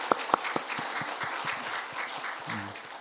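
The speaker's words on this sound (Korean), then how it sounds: "하나님께 영광의 박수 한번 드리겠습니다." Congregation applause at a Sunday church service, starting with a few sharp isolated claps and swelling into steady, moderately loud clapping from a sizeable crowd that fills the room throughout.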